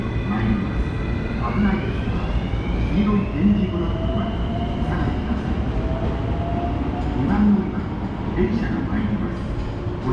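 Osaka Loop Line train pulling into Tsuruhashi station on a holiday evening, a steady rumble with rising and falling wheel whine, under a continuous platform announcement voice and crowd murmur.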